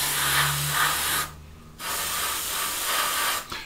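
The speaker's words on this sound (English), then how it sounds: "if you give the fan blades a bit of a spray" Spray paint hisses from a can onto the fan blades of a 1/48 scale SU-27UB Flanker model, two sustained close bursts separated by a short pause, with a brief puff at the end.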